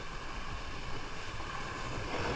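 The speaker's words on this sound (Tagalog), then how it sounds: "Laki ng alon ngayon." Big waves on open sea while trevally fishing from a boat: a steady, rough roar of surf and wind buffeting the microphone, continuous and fairly faint, with no talking.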